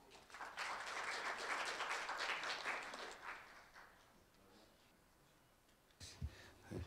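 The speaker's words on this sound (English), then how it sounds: "Please give Mr. Sillence a big round of applause." Applause from a symposium audience welcoming a panel moderator, a burst of clapping that swells early and then fades away, with a few louder claps and knocks near the end.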